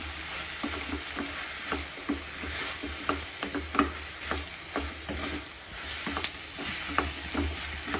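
Soya chunks (meal maker), squeezed and cut in half, fry in a pan under a steady close sizzle while a spatula stirs in regular scraping strokes roughly every half second.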